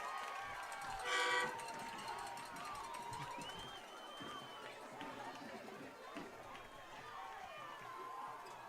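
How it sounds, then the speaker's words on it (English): A football stadium crowd roars after a long run, a loud swell of cheering and whistles early on that settles into a steady crowd din with chatter through the rest. "You hear the crowd."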